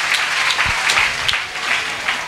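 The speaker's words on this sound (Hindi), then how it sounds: "इसलिए ज़ोर से तालियां बजाकर प्रभु यीशु को धन्यवाद दीजिए" Congregation clapping during a Hindi church prayer service, a steady patter of applause filling the room for a couple of seconds with a few sharper claps standing out.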